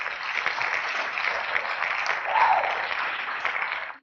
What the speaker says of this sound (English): I'm going to give you a hand clap.